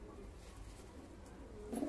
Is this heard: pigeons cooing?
yes